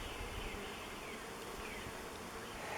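Agitated honey bees swarming around an opened hive during a split, a dense, continuous buzzing drone close to the listener with no pauses.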